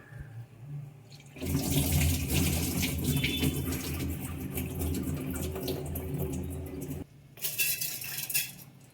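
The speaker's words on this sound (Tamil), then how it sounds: "இந்த தண்ணியை நல்லா வடித்து விட்ருவோம்." Soaking water from soaked rice and other ingredients for a thorny drumstick-leaf adai pours off in a continuous near splashing stream for several seconds, briefly stops, then resumes shorter; no talking.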